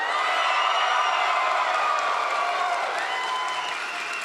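Audience at a Trane Technologies corporate event cheering and applauding loudly. The noise is steady and dense, with whoops and shouts mixed in, and it fades slightly toward the end.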